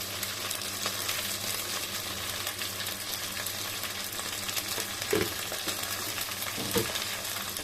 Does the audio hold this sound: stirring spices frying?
yes